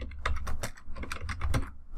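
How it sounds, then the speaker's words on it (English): Rapid, close-up keystrokes on a computer keyboard clatter in quick irregular bursts, with a couple of heavier key hits mixed in. "If I type now, I can start typing"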